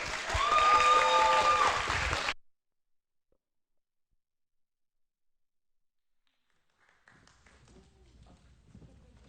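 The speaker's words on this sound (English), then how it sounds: "Let's give them a round of applause, y'all" An audience at a high school scholarship ceremony claps in a dense burst of applause for about two seconds, then goes silent before faint shuffling and footsteps.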